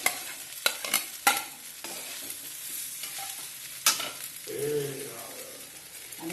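Food frying and being stirred in a pan at home, sharp scraping clacks of a utensil against the pan over a soft, quiet sizzle, with a brief murmur in the background.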